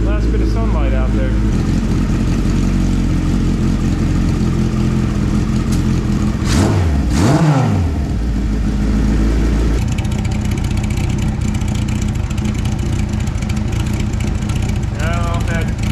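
A 1978 Kawasaki KZ1000 motorcycle engine runs loudly and steadily close by, with a rev that rises and falls partway through before it settles back to a constant drone.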